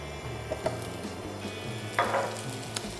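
Butter sizzling and crackling in a pan before leeks are cooked, a steady low fry with small pops and a few bursts, close and fairly quiet with no talk over it.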